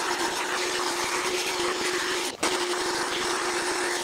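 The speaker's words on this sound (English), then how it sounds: "It'll test the hedge trimmer here" A hedge trimmer runs continuously through a dense bush with a loud, steady motor whine and buzz. The sound dips briefly for a moment, then resumes at full level, with no talking.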